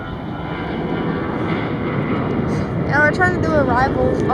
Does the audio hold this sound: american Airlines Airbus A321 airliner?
yes